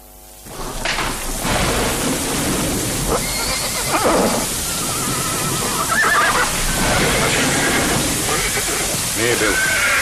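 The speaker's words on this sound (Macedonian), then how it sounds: "То се новите коњи на база." Several horses neigh and whinny loudly and close by in an outdoor yard during wet weather, with repeated calls over a rushing background and a voice speaking alongside them.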